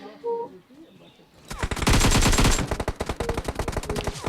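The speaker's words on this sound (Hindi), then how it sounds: "उसने मुझ पे गोली चलाई" Rapid automatic gunfire in the BGMI battle royale game, loud close bursts of fast repeated shots starting suddenly after quieter in-game sounds, with a player's voice talking over it.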